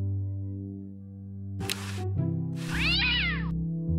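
A cartoon cat in Day of the Tentacle meows loudly twice, a short cry and then a longer wavering caterwaul, set against steady game music with no talking.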